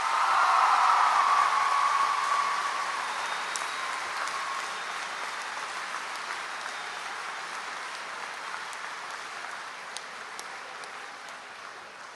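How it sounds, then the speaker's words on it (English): A crowd of graduates at a convocation ceremony applauds themselves, a dense wash of clapping that starts strongest and slowly thins over about twelve seconds, with no talking. "Clap for yourselves, 2015."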